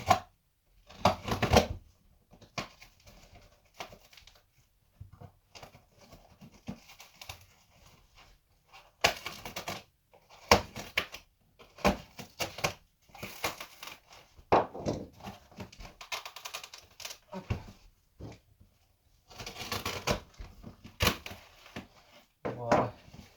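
A package sealed with strong American tape is pulled and torn open in bursts of ripping, crinkling and scraping separated by quiet gaps, with a person talking intermittently nearby.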